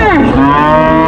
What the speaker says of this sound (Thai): วันนี้วัวควายเยอะมาก เยอะจริงเยอะจริง